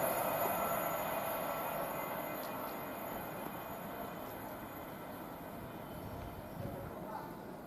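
A train runs past on the West Coast Main Line at Tamworth, a steady broadband rumble and rail noise filling the whole stretch at close range, with a brief swell near the end.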